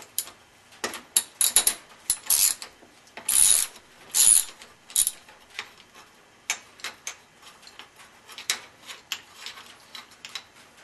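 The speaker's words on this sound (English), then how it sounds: "I'm going to take a ratchet, and this is a 13 millimeter, and I'm just going to go ahead and remove the bolts." Hand ratchet with a 13 mm socket removing rear sprocket bolts on a BMW F650 motorcycle, rapid bursts of close, crisp ratcheting clicks in uneven runs separated by short pauses.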